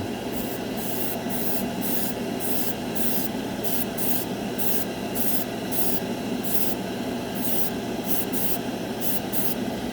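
Splash Paints Metalizer paint in Magnesium is sprayed onto a black spoon in repeated hissing bursts of varying length, close and fairly loud, with a brief pause between passes and no talk.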